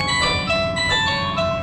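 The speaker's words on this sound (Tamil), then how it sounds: "எனக்கு ஃபோன் வருது ஒரு நிமிஷம்." A phone ringtone sounds for an incoming call, a bright repeating electronic melody playing loud and steady on its own.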